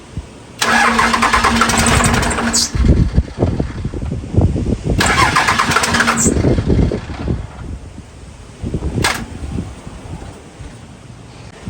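A Cummins 12-valve diesel engine cranks loudly with a starter whine, stops, cranks again for a similar stretch, then catches into rough close running, with one short final crank burst.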